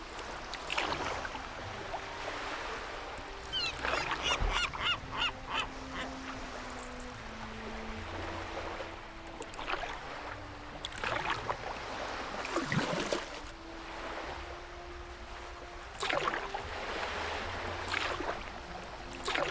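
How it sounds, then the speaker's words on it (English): Kayak paddling across water in the Nancy Drew game Danger on Deception Island, with repeated splashing paddle strokes at irregular intervals over a soft water background, plus some scattered game tones. "If it's not kayaking that we need to do, well, then at least Nancy gets some exercise."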